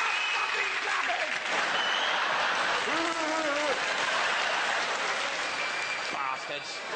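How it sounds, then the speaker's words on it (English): Sustained clapping from a comedy stage show audience, loud and dense throughout, with faint cheers and voices briefly rising through the wash before it thins near the end. "Stop fucking clapping!"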